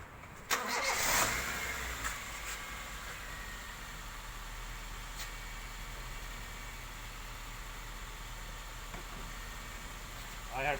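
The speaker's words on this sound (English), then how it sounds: "I had started the car." A car engine cranks and catches, then settles into a steady idling rumble that runs on without pause, with the air conditioning running.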